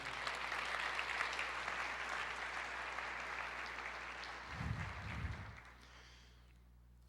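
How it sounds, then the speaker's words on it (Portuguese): A church congregation claps together during a Portuguese-language sermon, a sustained wash of applause that fades out near the end, with a brief low thump partway through. "Você pode aplaudir o Senhor?"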